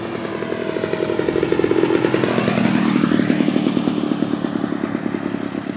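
An E-Flite P-51B Mustang 32e RC plane motor runs at full speed in flight, giving a loud buzzing whine that shifts in pitch as the plane sweeps past, with a steady pulsing texture throughout.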